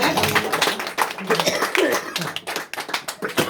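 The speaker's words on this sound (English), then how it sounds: "Clap for Jenny Joseph" Audience clapping at a poetry festival reading in Leamington Spa, a dense burst of hand claps from a nearby crowd lasting a few seconds, with voices mixed in.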